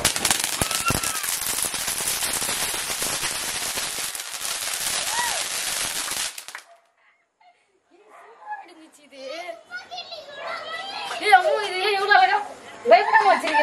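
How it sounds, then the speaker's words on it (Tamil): Rapid crackling bursts of small cap gun firecrackers for Diwali popping continuously for several seconds, then stopping; children's excited voices follow. "துப்பாக்கி வெடி."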